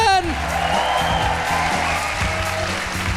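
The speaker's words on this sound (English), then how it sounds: "Please, will you join me in giving a massive round of applause to our guests, Oliver Coppard and Gary Stevenson?" Live studio audience applauds guests Oliver Coppard and Gary Stevenson at an economics discussion show, a steady wash of clapping with some cheering and voices mixed in throughout.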